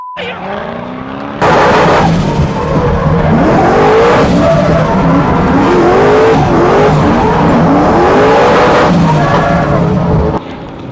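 A 900bhp Ford Mustang drifts on a track: a loud engine roar with rising and falling revs and long, wavering tire squeals runs nearly nonstop for about nine seconds, then drops away.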